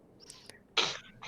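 A single sharp sneeze bursts out after a quiet, faintly breathy stretch during a tabletop role-playing game session, with a small trailing sound just after it.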